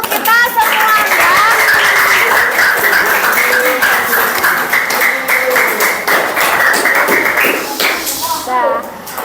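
Schoolchildren in a classroom clapping together, a dense steady burst of many small hands that fades toward the end, with children's voices mixed in.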